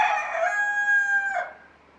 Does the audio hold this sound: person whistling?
no